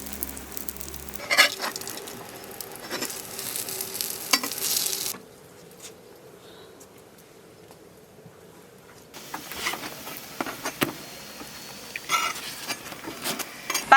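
Rolled flatbread frying in an oiled flat pan, a soft continuous sizzle with a few clinks of utensils, quieting for a stretch before the sizzling and stirring noises return.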